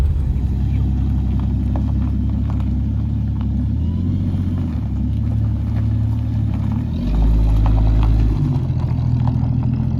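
A car drives on a gravel road with a slight pull to the right, making a loud, continuous low rumble of tyres and engine close inside the cabin that swells heavier near the end.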